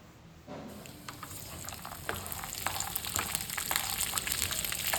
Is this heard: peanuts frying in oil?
yes